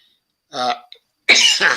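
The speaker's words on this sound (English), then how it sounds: "coughing spell here" A short throat-clearing cough, a pause, then a harsher burst of coughing, close and alone in quiet.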